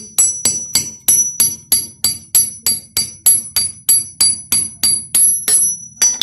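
Steel rawl anchor bolt hammered into a drilled hole, about fifteen sharp, evenly spaced metallic strikes with bright ringing tails, close and loud, with a low hum underneath.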